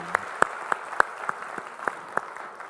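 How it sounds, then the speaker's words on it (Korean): Sparse, separate hand claps in a church congregation during a Sunday worship service, about eight distinct sharp claps spaced unevenly, fairly close and faint against a quiet room. "우리 자녀들의 격려의 박수, 하나님께 영광의 박수 드리겠습니다"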